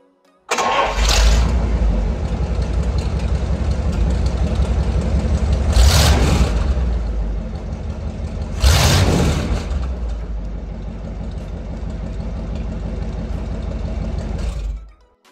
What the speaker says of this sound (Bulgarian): Днес ви представяме реставрирания двигател на ГАЗ-13 Чайка